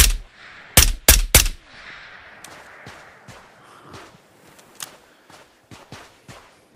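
Gunfire in the VR shooter Ghosts of Tabor: three sharp, loud shots in quick succession near the start, followed by quieter scattered pops and clicks at moderate distance.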